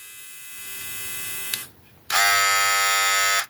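Philips HC3518/15 hair clipper motor running with a loud, bright electric buzz that briefly drops to a quieter hum before surging back to full strength close up, then cutting off.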